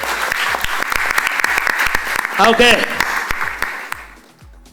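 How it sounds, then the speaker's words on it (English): Audience applause at a corporate quiz, steady dense clapping with a brief spoken interjection partway through, tapering off near the end. "Can we have a round of applause for him?"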